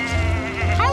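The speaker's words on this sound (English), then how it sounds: "Hi, little goats." Small young goats bleat twice at close range in one-second bursts, the second cry slightly longer and louder, against a steady background hum.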